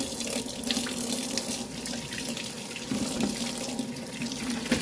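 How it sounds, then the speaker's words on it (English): Cold water running from a kitchen tap while salmon is rinsed under it: a steady, fairly loud splashing stream into a sink, continuous for several seconds with small shifts as the fish moves beneath it, no talking. "I'm going to rinse this off with cold water."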